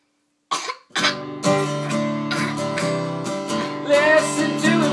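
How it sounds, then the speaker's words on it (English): A boy's coughs come in sharp, repeated bursts set against sustained musical tones, forming a rhythmic pattern over about five seconds. "listen to him cough."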